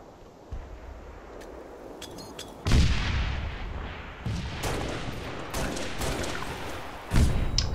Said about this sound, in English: That was good nade.